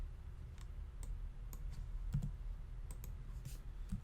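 Quiet clicks of a computer keyboard as a username is typed, a few separate keystrokes in a loose, uneven rhythm over a low steady room hum, no voices.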